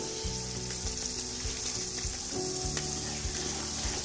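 Whole spices and black pepper fry in hot oil for aloo pulao, giving a constant close crackling sizzle with faint rhythmic stirring knocks beneath it.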